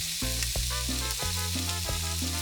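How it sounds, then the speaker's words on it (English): Onions sizzle loudly in hot bacon grease in a pan, a dense constant crackle broken by several thuds and scrapes as they are stirred around. "and then into our pan with the bacon grease go our onions"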